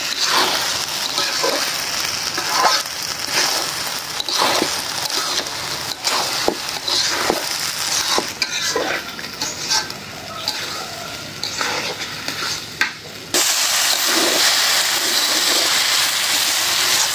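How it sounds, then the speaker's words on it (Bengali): Rice being dry-fried and stirred in a pan for bhuna khichuri, with repeated scraping, crackling strokes of a utensil against the pan and a steady sizzle running throughout, close and fairly loud, with no talking. "চাউল একদম ভাজা ভাজা করে নিলাম।"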